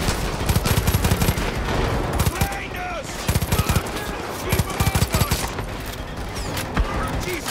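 Rapid automatic gunfire from a rifle with heavy recoil in Far Cry 5, bursts of shots rattling steadily through the whole stretch over a busy game soundscape.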